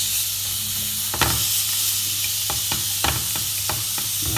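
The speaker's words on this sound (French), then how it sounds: "Là, on va tourner notre viande." Meat sizzles loudly and continuously in a hot pan as it is turned, with several sharp scrapes and knocks of the utensil against the pan.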